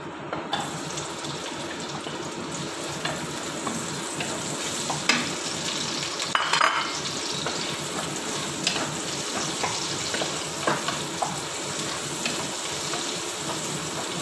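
Sliced onion sautés in a pan for a chicken salona, a dense continuous sizzle with occasional clinks and scrapes from stirring, no talking.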